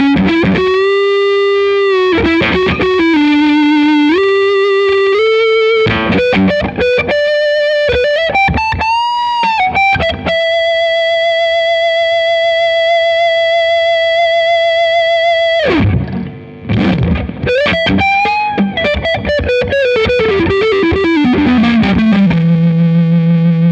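An electric guitar on its neck pickup plays smooth melodic lines through a Boss Waza Craft BD-2w Blues Driver pedal, with sustained notes, slides and bends, loud and continuous with no talking.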